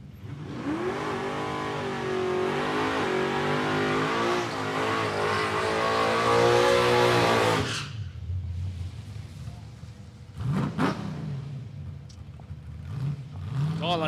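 A drag racing car at Palmyra Raceway roars through a long, loud burnout with wavering engine revs, then cuts off abruptly, followed by a sharp revving burst and lower engine rumble at a distance, with commentary underneath.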